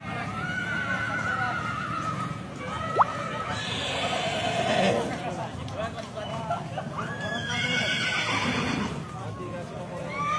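About 150 to 200 horses parade through the village of Temboro to welcome Ramadan, with repeated whinnies and neighs and clip-clop of hooves beneath a lively crowd talking and shouting.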